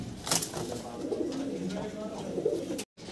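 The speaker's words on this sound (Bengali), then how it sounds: "ভিডিও স্ক্রিনে আপনারা দেখতে পারতেছেন খুব চমৎকার এক জোড়া জ্যাকোবিন কবুতর" A pair of Jacobin pigeons coo softly and repeatedly close by, while someone talks over them.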